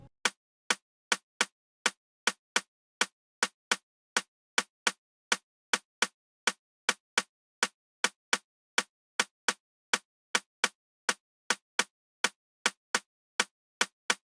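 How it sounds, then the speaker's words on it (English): A basic Afrobeats rimshot groove clicks alone in a steady, evenly spaced pattern of sharp, dry hits, loud and close with nothing else underneath. "we have the basic rimshot groove of the song"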